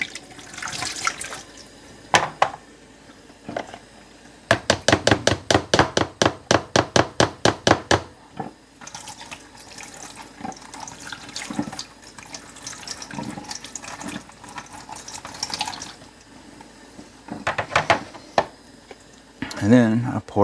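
Blender cup rinsed under a running kitchen tap after making a mocha frappe, water splashing in bursts with rapid clattering rinses in the middle, interspersed with quieter gaps and handling noises.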